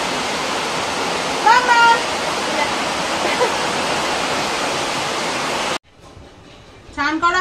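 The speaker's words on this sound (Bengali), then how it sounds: "এত জোর বৃষ্টির আওয়াজ হচ্ছে" Heavy rain pours in a loud, steady broadband roar, broken briefly by a voice, then cuts off abruptly near the end, leaving a quieter indoor background before a voice speaks again.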